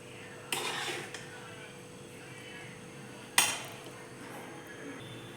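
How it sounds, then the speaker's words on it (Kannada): A utensil mixes vangibath gojju into cooked rice in a dish. Two distinct metallic clinks ring against the dish, with soft, close scraping between them. "ಈ ವಾಂಗಿಬಾತ್ ಗೊಜ್ಜು ಏನಿರುತ್ತಲ್ಲ ಹಾಕಿ ಕಲಿಸ್ಕೊಬೇಕು"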